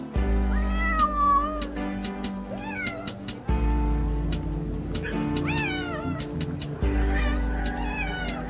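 Several cats meow and yowl from their cages at an annual cat show, overlapping cries rising and falling close by over a steady hall hum and background murmur.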